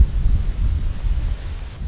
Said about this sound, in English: As you all can hear, it is insanely windy.